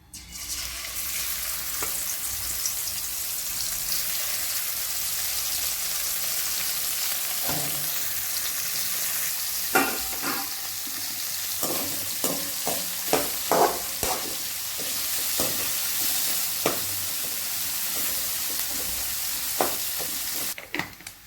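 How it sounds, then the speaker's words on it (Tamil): Dried salted fish (karuvadu) fries in hot oil with a continuous close sizzle, broken by scattered pops and crackles as the pieces are stirred. "இப்போ கருவாடை பொரிக்க போடலாம் எண்ணெய் காஞ்சிருச்சு"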